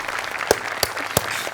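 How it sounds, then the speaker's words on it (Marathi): An audience applauds during an award moment on a Marathi comedy stage show: a short wash of clapping marked by a few sharp, distinct claps. "जोरदार टाळ्या."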